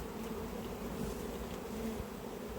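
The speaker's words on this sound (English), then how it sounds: "So nice healthy frame of bees." Honey bees swarm over a healthy hive frame during an apiary inspection, a dense continuous buzz filling the clip at close range with no voices.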